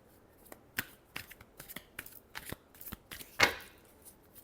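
Tarot cards are shuffled by hand in a run of soft, quick riffles and slaps, with one sharper burst near the end. The sound is close but fairly quiet, with no voices.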